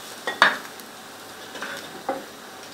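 Coconut French toast fries in a non-stick pan with a low sizzle, broken by a sharp utensil clink and a couple of lighter scraping taps.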